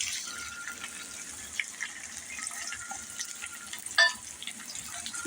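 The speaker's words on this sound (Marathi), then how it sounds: "आता याच्यात आपण कांदा घालून घेऊया" Chopped onion hitting a hot pan and sautéing for a Marathi masoor dal and onion dish, a steady soft hiss and crackle with a brief louder clatter near the end, no talking.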